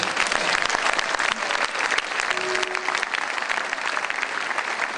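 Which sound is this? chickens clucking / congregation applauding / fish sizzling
congregation applauding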